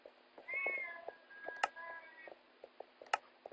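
A house cat meows insistently to be let outside, a long drawn-out cry followed by a shorter one, close by and alone, with faint ticking clicks underneath.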